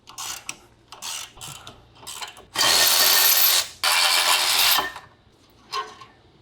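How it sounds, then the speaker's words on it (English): Ratcheting clicks from a 9/16 socket wrench loosening tight caliper bracket bolts on an Alfa Romeo Stelvio or Giulia, a few short clicking bursts then two long rapid ratchet runs, close and clear, no voices. "I'm gonna be using this 9/16 socket to remove them"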